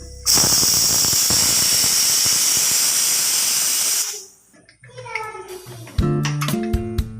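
A pressure cooker cooking horse gram releases a loud, steady hiss of steam for about four seconds, then cuts off, followed by scattered clinks and light clatter.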